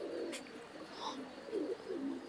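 Breeder pigeons cooing in a loft in R.S. Pura, Jammu, soft low throaty coos rising and falling in a few phrases, fairly near, with faint chirps and background noise and no clear talk.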